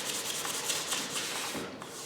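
Sandpaper rubbing briskly on the wooden neck of a 335-style guitar kit, a close, continuous rasping hiss with quick back-and-forth strokes.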